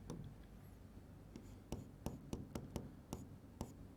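Marker or chalk taps and strokes on a board during a physics lecture on electricity, a handful of sharp, distinct knocks and scrapes in uneven rhythm, fairly close but quiet, with no talk.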